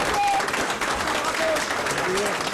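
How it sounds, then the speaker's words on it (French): Party activists at a cantonal election night gathering give dense, sustained applause with scattered cheers and whistles, loud and continuous, with voices mixed in throughout. "cette fois c'est elle que les militants acclament"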